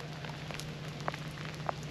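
Rain falling outdoors by a river during autumn catfish fishing, a soft steady patter with a few sharper drops standing out, over a low constant hum, fairly quiet and with no voices.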